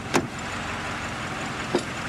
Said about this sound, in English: Pull the truck over, Sergeant.